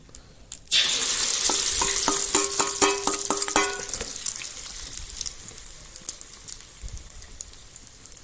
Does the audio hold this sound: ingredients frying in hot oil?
yes